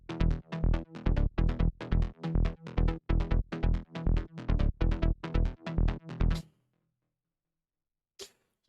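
A gritty sample-pack bass from an electronic track pulses in a fast, steady rhythm of punchy repeated hits layered with other bass sounds, then cuts off. A single faint hit follows after a pause.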